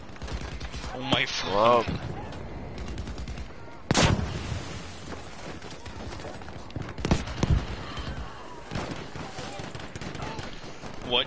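Sniper gunfire in Battlefield V, with sharp shots cracking out at scattered moments amid other battle noise, while players talk and exclaim throughout.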